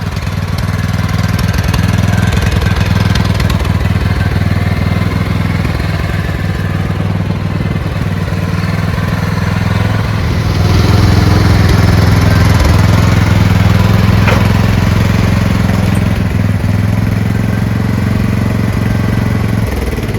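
Craftsman LT2000 lawn tractor engine running outdoors on a lawn, a loud, steady close-up drone with a slight lift in pitch partway through and no talking.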